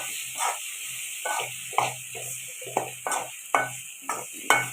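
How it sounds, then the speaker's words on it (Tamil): Masalas sautéing in a pan for a dried fish curry, a soft background sizzle punctuated by about eight rhythmic scraping stirs of a spatula, close and clear. "இதெல்லாமே சேர்த்து நல்லா வதக்கி வச்சுக்கணும்"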